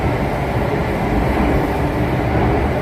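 An SMRT Circle Line C830 metro train runs steadily between stations, a dense continuous roar and rumble from inside the carriage, loud and even throughout with no voices.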